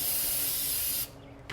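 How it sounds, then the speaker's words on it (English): A loud, close, steady hiss of brake cleaner sprayed from an aerosol can onto a shop towel during a truck rear axle hub rebuild, ending sharply after about a second. "So I'm going to take some more brake cleaner on a shop towel."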